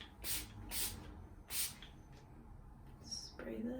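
Smoothing hair spray is misted onto cooled, curly hair in three short hissing bursts close to the microphone, followed by quieter handling sounds.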